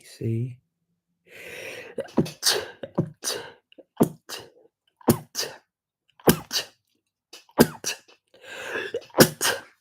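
A single sharp human sneeze bursts out, followed by a run of short gasps, coughs and breathy vocal bursts; one person speaks briefly during the clip.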